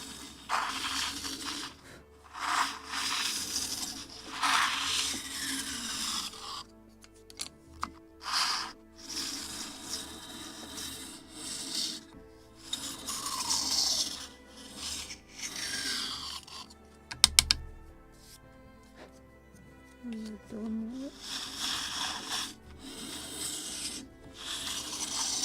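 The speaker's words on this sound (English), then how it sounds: "So in the rest we can do manually with a sanding block." A sanding block rubbed by hand over the wooden seats of a model gunboat kit, giving bursts of dry rasping strokes separated by pauses and small clicks, close and fairly quiet, with no speech.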